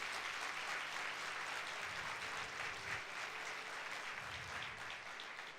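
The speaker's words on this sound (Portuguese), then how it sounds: "Então dê um aplauso ao Senhor Jesus." Sustained applause from a church congregation during a Sunday worship service, a dense steady wash of many hands clapping continuously throughout, fairly even in loudness with no speech over it.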